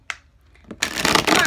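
Brand-new tarot cards being shuffled by hand: a light flick and a couple of soft taps, then a dense, steady riffling rustle of card stock that fills the last half of the moment, close and fairly loud.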